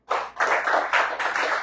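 Audience hands clapping during a church teaching session, heard as a run of five or six distinct bursts of clapping in an uneven rhythm, moderately loud and fairly close, with no speech over them.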